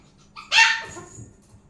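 A puppy waiting for its favourite dog food gives a single sharp, close bark, and a short whimpering trail follows before it goes quiet.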